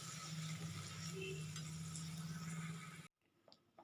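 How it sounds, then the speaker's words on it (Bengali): Beans being stirred in a cooking pan, a close, continuous sizzling hiss with a scraping undertone that cuts off abruptly near the end, leaving faint quiet clatter. "এটাকে এইভাবে নেড়ে নেড়েই করবো"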